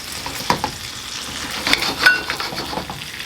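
Butter sizzles and spits in a wok during a Cantonese scallion ginger lobster stir fry, a close bright crackle with a few louder pops and faint utensil scrapes.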